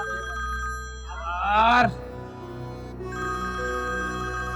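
A telephone rings in a TV drama scene, a steady electronic ringtone running through the whole moment, with a voice briefly cutting in over it partway through.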